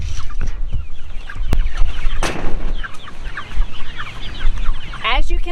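Messy farm chickens cluck steadily up close, a mix of short clucks and brief squawks from several birds, with a rooster-like call and someone speaking over them.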